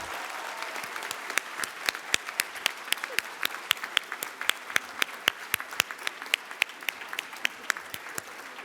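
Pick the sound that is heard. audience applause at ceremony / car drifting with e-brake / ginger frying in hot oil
audience applause at ceremony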